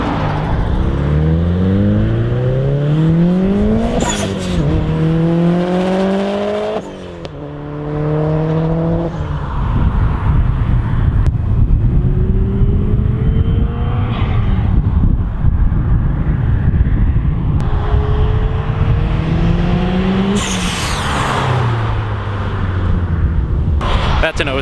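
A built 2007 Subaru Impreza WRX Hawkeye with a Cosworth engine accelerates hard through several gears, its rising engine note climbing and dropping with each shift, loud and close with wind buffeting the microphone and people talking over it.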